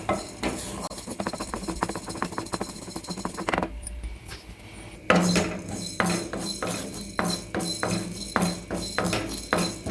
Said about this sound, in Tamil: எண்ணெய் எதுவும் சேர்க்காமல் வெறும் வாணலியில் வறுக்க போகிறோம்